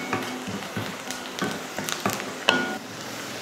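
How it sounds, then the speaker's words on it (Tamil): Onions sauté in a pan with curry leaves and garlic, a steady close sizzle with repeated stirring scrapes and clicks of a spoon. "வெங்காயத்தை இந்த அளவு வதக்கிக்கிட்டால் போதும்."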